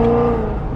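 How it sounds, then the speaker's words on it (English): A Chevrolet Corvette engine hums steadily from inside the cabin while driving, a low, even drone with a faint tonal whine above it and no talking. "Alright, so we are in the Corvette right now,"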